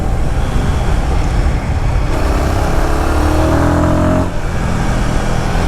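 A Royal Enfield Guerrilla 450 single-cylinder engine pulls hard under open throttle, a close, loud rising drone that climbs through the middle of the run before easing off, with road and wind noise beneath.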